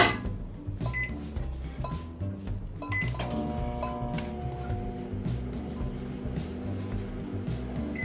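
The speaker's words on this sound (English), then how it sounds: "we're gonna go ahead and put this in the microwave" A microwave oven hums steadily, preceded by several electronic button beeps and a clunk as it starts running.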